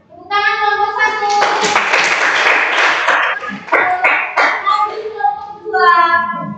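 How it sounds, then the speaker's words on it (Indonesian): Group of students clapping together in a classroom, a dense burst of applause lasting several seconds with children's voices around it, then tapering into scattered claps. "tepuk tangan kelompok 1"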